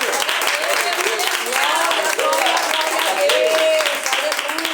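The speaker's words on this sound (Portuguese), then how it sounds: "Vamos aplaudir a Jesus pela vida desse casal." Church congregation clapping together during a service, a loud, sustained wave of applause with voices and cheers mixed in throughout.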